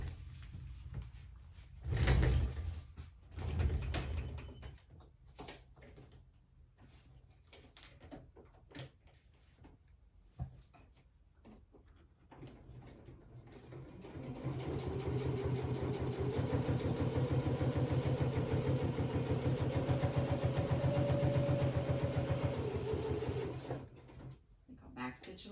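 A sewing machine runs a long line of stitches down the middle of a junk journal. Speech and handling noises come first, then the machine's steady mechanical whir continues for several seconds before stopping.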